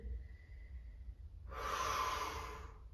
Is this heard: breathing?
yes